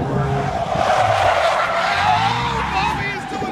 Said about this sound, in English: He's lost his tire, but he still drives on. His tire's off his rim.